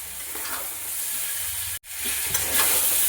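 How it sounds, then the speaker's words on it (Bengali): Potatoes stirred and frying in a pan with chilli powder and spices, a steady close sizzle with scraping stirs throughout, broken by one brief silent gap midway. "দিয়ে কিছুক্ষণ নাড়তে থাকি"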